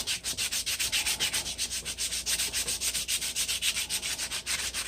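Sandpaper scrubs a rusty hatchet in quick, even back-and-forth strokes, a rhythmic close rasping that continues without pause.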